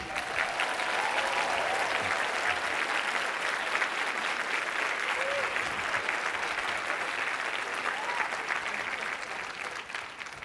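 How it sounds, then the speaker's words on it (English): Audience members at an afterschool conference table session clap for the neighboring table, a sustained even burst of applause lasting about ten seconds before tapering slightly, with faint voices mixed in. "I want you to applaud the table next to you"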